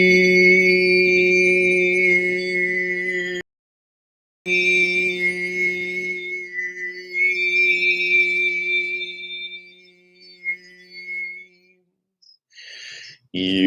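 Overtone throat singing, a steady low drone with bright, bell-like whistling harmonics ringing above it, sustained in long phrases with a short pause and fading near the end.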